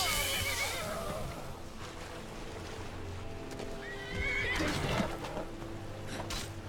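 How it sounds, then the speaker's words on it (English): A dying horse in Skyrim lets out shrill, wavering whinnies, one near the start and another around the middle, over a steady low rumble of background sound, with no talking. "Where is my horse and why is it dying?"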